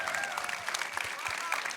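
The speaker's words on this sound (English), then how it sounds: "Can we have like a round of applause for like the performance she gave?" An audience applauds during a film festival Q&A, a soft, steady patter of clapping heard from some distance, with faint voices underneath.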